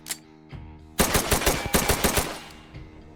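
Makarov pistol fired in the Tactical Assault VR shooter, a quick string of about eight sharp, close shots in rapid rhythm after a couple of faint mechanical clicks.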